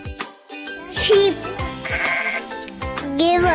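A sheep bleats several times in quick succession, loud and near, its wavering calls partly overlapping a speaking voice.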